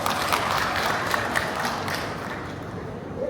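Audience applause at a textile industry seminar on halal strategy at a trade exhibition, a dense, steady wash of many hands clapping that holds evenly and tapers slightly toward the end.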